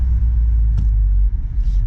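A loud, close, steady low rumble from an Audi S4 engine while driving, heard from inside the car with a faint click partway through and no talking.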